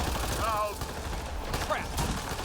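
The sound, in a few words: turret gunfire in video game Mass Effect Andromeda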